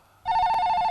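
A telephone rings in a house in a Hindi action film scene, starting abruptly from near quiet as a sustained, bright electronic ring tone.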